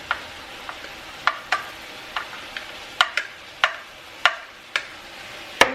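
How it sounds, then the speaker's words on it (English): Onion, chilies and garlic cook in hot oil in a pan, a soft, steady background sizzle broken by scattered sharp crackles and pops at irregular moments, with no talking. "We want to cook this first so that the oils get the flavor of the chilies, the onion, the garlic."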